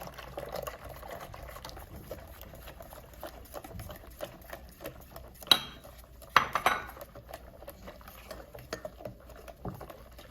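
Melted butter poured into a bowl of bibingka liquid ingredients and stirred in, with light clinks of utensil against dish, soft liquid sloshing and a few sharper knocks close by.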